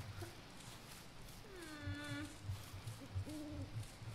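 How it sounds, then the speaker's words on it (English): An owl hoots in the Finding Bigfoot video game, a few tonal hoots in a quiet night forest ambience with soft footsteps crunching nearby. "Heard an owl."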